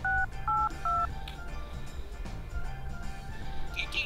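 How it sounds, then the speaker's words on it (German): A telephone keypad dials a call, giving three loud, evenly spaced DTMF tone beeps in the first second, then quieter line noise and a faint ring-like tone near the end. "Ich glaube, ich rufe Oma an."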